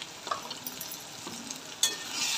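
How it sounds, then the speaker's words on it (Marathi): Chicken coated with turmeric, chili powder, coriander, cumin and garam masala for a dry yogurt chicken dish is mixed in a pan, giving a soft sizzle with light scraping strokes and one sharper clatter near the end. "सर्व मसाले मिक्स करून घेऊया"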